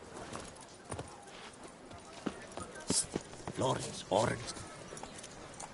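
Roach the horse in The Witcher 3 with hooves clip-clopping in an irregular trotting rhythm, fairly close, mixed with scattered game sounds and spoken voices.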